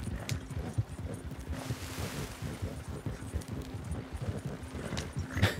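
Hooves thud in a fast, rolling rhythm as a horse gallops in the Red Dead Redemption 2 video game, steady and fairly near, with a breathy wind-like rush behind.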